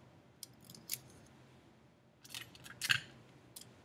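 Tape pulled from a roll and pressed onto paper chromosome models: two quick sticky rips, then a longer crackling pull with a sharp peak, close and fairly quiet with no talking.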